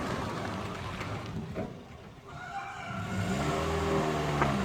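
A car drives along a road during a brake check after a squeak repair, the engine and tire noise steady and near, dipping briefly mid-way before rising again as it accelerates.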